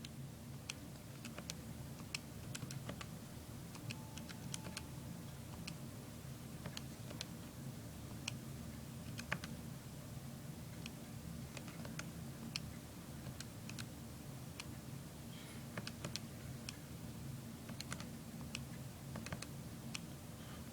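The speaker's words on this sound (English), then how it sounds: "I'm in the L1 column, and I just simply start typing in data." Quick, irregular clicks of small calculator keys being pressed as data is entered, scattered across a steady low background hum with no talking.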